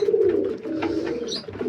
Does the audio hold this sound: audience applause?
no